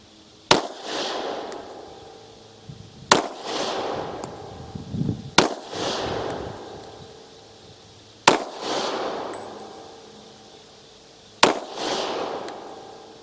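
Five sharp, loud gunshots from a Glock 27 compact .40 S&W pistol, spaced a few seconds apart, each crack followed by a short ringing decay at an outdoor range.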